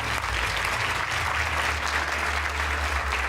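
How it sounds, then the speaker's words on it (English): Audience applause at a school spirit awards show, dense continuous clapping from a large crowd at steady loudness throughout, over a low hum. "Let's give them a big round of applause."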